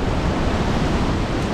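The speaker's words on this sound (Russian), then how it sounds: "Такая волна идет, как будто сейчас всего обольет." Stormy sea surf pounds the shore at Lazarevskoye during a February storm, a loud, continuous roar of breaking waves and wind with no voices.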